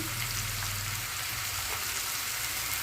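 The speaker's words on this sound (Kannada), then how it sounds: "ಎಲ್ಲನೂ ಸ್ವಲ್ಪ ಹೊತ್ತು ಎಣ್ಣೆಯಲ್ಲಿ ಚೆನ್ನಾಗಿ ಫ್ರೈ ಆಗಬೇಕು." Spices sizzling in hot oil for Karnataka-style bassaru, a steady close frying crackle with a low rumble underneath, continuous throughout without speech.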